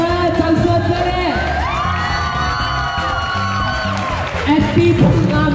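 A live audience cheers, whoops and yells for the winner of a spicy noodle challenge, a loud continuous crowd roar with a host's voice riding over it.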